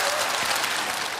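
Sustained, loud applause from a large lecture audience greeting a psychiatrist guest speaker, a dense wash of clapping filling the whole moment without letup.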